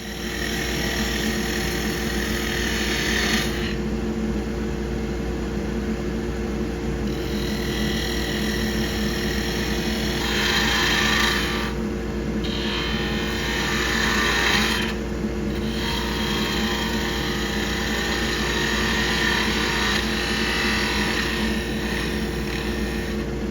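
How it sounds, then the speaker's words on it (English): Skew chisel taking a planing cut on a small wooden tool handle spinning on a wood lathe, a steady continuous hiss of shaving over the lathe's motor hum, with brief bursts where the cut bites harder. "now I'm using a planing cut to try to cut down to that"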